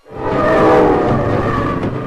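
A T-27 passenger train running from Beijing to Lhasa across the Tibetan plateau rumbles loudly and steadily, a close, continuous roar of wheels and carriages with no talk.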